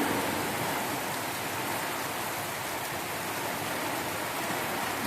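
Heavy storm rain pouring at a bus stand in Bogura, a loud, dense, continuous hiss of rain with no voices.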